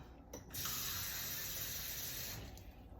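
Filtered water poured for a vegan vegetable coconut korma, a steady hissing splash of liquid for about two seconds after a brief clunk, close but soft, with no talk.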